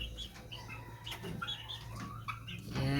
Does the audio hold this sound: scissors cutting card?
no